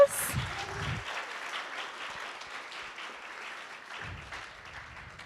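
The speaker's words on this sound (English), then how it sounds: "Let's give them a round of applause." Steady audience applause at a guide dog graduation ceremony fills the room, a dense patter of many hands clapping that holds evenly throughout.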